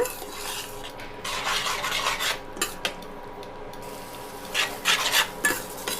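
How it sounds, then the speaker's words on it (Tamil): Chilli, coriander and cumin sautéing in a pan for tomato gravy: a utensil stirs and scrapes against the pan in repeated strokes over a soft, steady sizzle, heard close with no talking. "சேர்த்துட்டு இதுவும் ஒரு நிமிஷம் அந்த மிதமான சூட்டில் இதுவும் கொஞ்சம் வதக்கி விட்டுடலாங்க"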